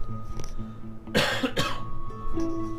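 A man coughs twice in quick succession, short rough bursts close to the microphone, with a faint tonal game soundtrack running underneath.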